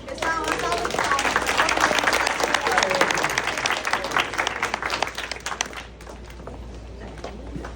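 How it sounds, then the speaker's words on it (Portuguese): An audience at an opening panel applauds in a loud burst of clapping for several seconds, with some voices mixed in, then it drops off abruptly into quieter room murmur. "uma salva de palmas"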